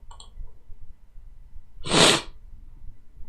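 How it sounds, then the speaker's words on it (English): A single loud sneeze bursts out close by at a quiet desk, sharp and short after a faint sniff, with breathing and low room noise around it. "I might sneeze, hold on."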